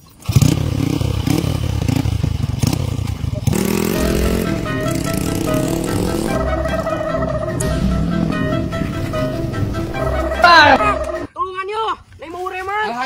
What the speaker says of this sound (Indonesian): dicobian heula ta motorna mah